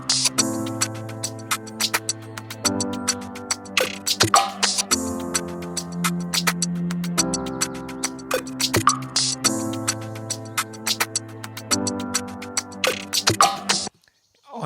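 An instrument plays an Afrobeats chord progression, sustained chords changing every couple of seconds with sharp percussive ticks on top, looping steadily and loud, cutting off abruptly near the end.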